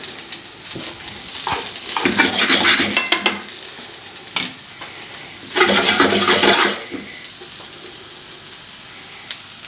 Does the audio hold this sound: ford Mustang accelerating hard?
no